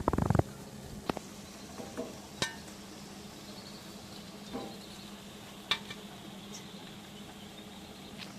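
Tal bora, palm fritters, frying in oil: a faint, steady sizzle carries on throughout, broken by a few soft clicks and scrapes of stirring.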